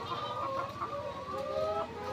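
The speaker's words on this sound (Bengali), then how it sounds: "এই যে দেখেন মুরগি কি সুন্দর খাচ্ছে" Chickens on a poultry farm cluck in a close, steady murmur of overlapping calls, with a fan-cooled shed setting and no talk.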